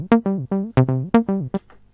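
A Roland TB-03 bass synthesizer plays an acid 303 pattern: a run of squelchy, buzzy eighth-note bass tones with shifting pitch and filter sweeps, ending in a short decaying tail.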